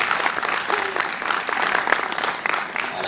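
Cinema audience applauding at a film premiere in a UGC theater, a dense, steady clatter of many hands filling the room, with a few voices faintly mixed in.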